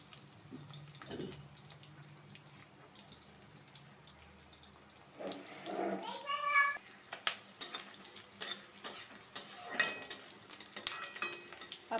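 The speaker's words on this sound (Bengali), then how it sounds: "কালি জিরে, পেঁয়াজ ফোড়ন দিয়ে দিলাম।" Nigella seeds and onion tempering in hot oil for a Bengali ridge gourd peel paste, a faint crackle at first that swells into a louder sizzle with sharp spitting pops and clatter near the pan.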